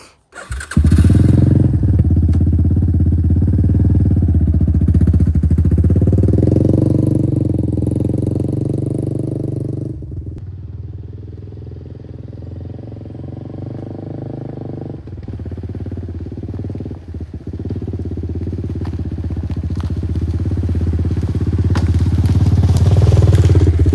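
A quad ATV rides along a wet trail on rural property, its engine running loud and close throughout. The engine revs rise and fall with the terrain and no one speaks.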